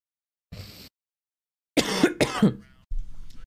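A short cough, a pause, then two harsh close coughs in quick succession followed by a rough throat-clearing rasp.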